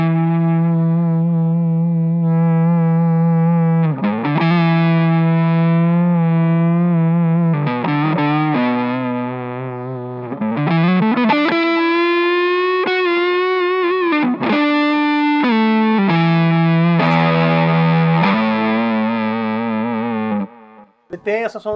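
Electric guitar through a Mooer Two Stones preamp pedal set for a deep, chesty tone, sustained distorted notes and bends with chorus-like shimmer and reverb, loud and close, played alone for about twenty seconds.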